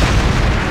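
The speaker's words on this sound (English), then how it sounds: "From here, I'll use these fire magic crystals." A fire magic crystal explodes in the Re:Zero video game as a single loud, close booming blast with a dense, roaring burst that fills the whole moment.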